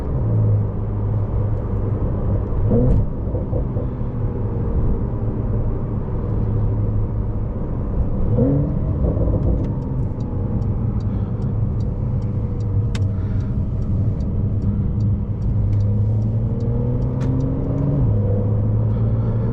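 A 2024 Porsche 911 Carrera T flat-six engine with PDK gearbox drones steadily while driving, its pitch rising and falling with gear changes and acceleration, loud and continuous throughout.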